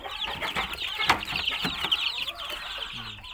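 Chickens in a farm coop cluck and call over one another in a close, busy chorus, with sharper cries rising briefly before the noise settles.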